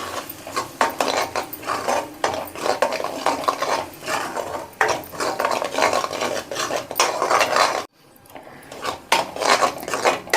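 Metal spoon scraping and clattering around a pan of butter chicken masala in repeated strokes, close and busy, with a brief pause near the end before stirring resumes.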